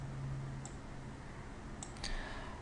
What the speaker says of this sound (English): I can hear someone typing on the background